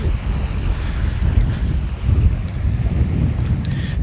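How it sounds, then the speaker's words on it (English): Waves lapping at the water's edge, a steady wash of surf mixed with heavy wind buffeting the microphone, continuous and fairly loud with no voices. "Just to enjoy the waves."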